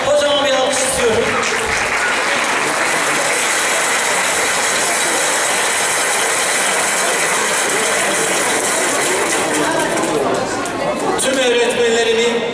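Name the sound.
applause for retired teachers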